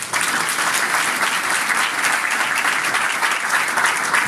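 A church congregation claps loudly and steadily, a dense, continuous wash of applause filling the whole space without pause, with no voices rising above it.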